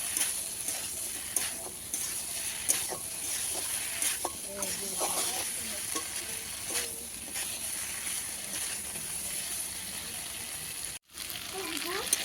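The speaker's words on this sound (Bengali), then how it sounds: "মশলার সাথে আলু আর ফুলকপিটা এবার ভালো করে আর একটু কষিয়ে নেবো মশলার সাথে" Potato and cauliflower pieces fry with spices in a pan for a winter vegetarian cauliflower curry, giving a steady close sizzle with scattered scraping stirs throughout and a brief break near the end.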